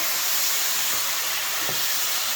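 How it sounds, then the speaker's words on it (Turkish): Peppers sizzle in a hot pan, a steady bright crackling hiss without pause and no voices. "bakın biberi bol bol kızartıyoruz bir kere"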